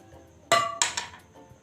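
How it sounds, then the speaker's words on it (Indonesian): A stone dropped onto a tin can gives a sharp metallic clank followed by a second bouncing clink, both close and ringing briefly in an otherwise quiet space. "saya akan menjatuhkan sebuah batu ke atas kaleng"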